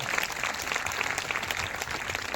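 An audience applauds at a Christian church teaching service: dense, steady clapping fills the whole stretch at a moderate, even level without pauses.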